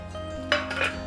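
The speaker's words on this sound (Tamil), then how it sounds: "இதை ஒன்று சேர நல்லா கலந்துக்கலாம்." A spoon clinks and scrapes against a bowl while sweet banana bonda batter is stirred together with chopped nendran banana pieces, two or three bright metallic knocks over a low kitchen hum.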